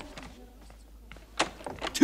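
A door is pushed shut, giving a few short knocks and a firm closing clatter toward the end, with faint indoor movement before it.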